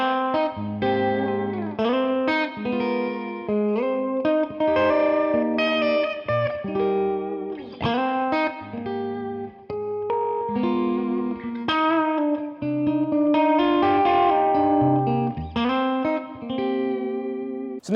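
A PRS electric guitar with single-coil pickups played on the bridge pickup, clean and bright with chorus-like shimmer and reverb, ringing chords and melodic notes sustained throughout, alone with no voices.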